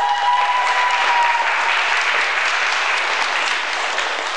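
Audience applause at the 2004 Viva Las Paldiski event in Estonia, a steady wash of many hands clapping that holds strong for several seconds and then eases slightly.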